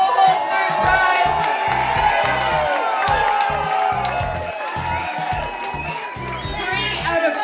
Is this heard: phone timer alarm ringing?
no